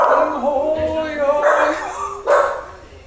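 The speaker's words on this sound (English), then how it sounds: "Dog. Fucking dog." A dog barks and yelps in short bursts close by during a podcast chat, with harmonic whines mixing under the barks and one sharp loud bark near the end.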